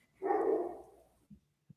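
One short dog bark rings out clearly in a quiet space, followed by two faint, brief soft thuds.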